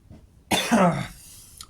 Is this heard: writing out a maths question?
no